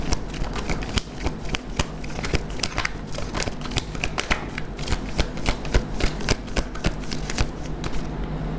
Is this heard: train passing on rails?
no